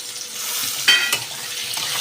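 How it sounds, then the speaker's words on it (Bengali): Potato pieces drop into hot oil with chopped onions and fry with a dense, steady sizzle, broken by a couple of sharp stirring scrapes. "এবার আমি ওই কুচোনো পেঁয়াজগুলো ভাজার মধ্যে আগে থেকে কেটে রাখা আলুগুলো দিয়ে দিলাম।"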